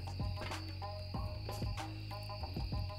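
Crickets chirp in the outdoor night ambience of the horror game Phasmophobia, a steady dense trill layered with repeated pulsing chirps, clear and constant but fairly quiet.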